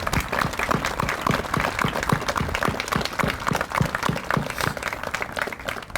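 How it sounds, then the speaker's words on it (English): Audience applause for veterans at a Patriots Day ceremony: sustained, dense clapping from a crowd, steady and fairly loud for the whole stretch with no talk over it. "So can you join me in applause for our city veterans?"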